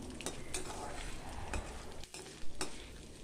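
Ingredients for curry leaf thokku fry and are stirred in a hot pan, giving a steady sizzle under repeated scraping and clinking strokes, close and fairly loud, with no talking.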